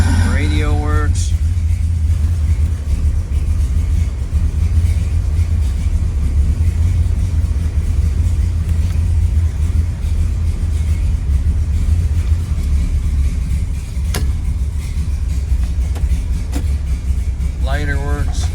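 A restored 1969 Chevelle SS 396 idles with a deep, steady rumble that carries through the whole stretch, joined by occasional brief mechanical chirps.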